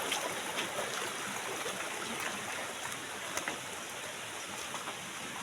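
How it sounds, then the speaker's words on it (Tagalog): Steady rain patters continuously with a broad hiss, with no voices, just a constant wash of falling water. "guys, umuulan na naman"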